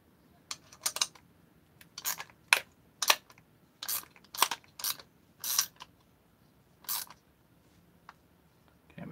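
Socket turning down a bearing puller, a run of sharp metallic ratcheting clicks in short bursts with brief pauses, close and fairly quiet, no talking.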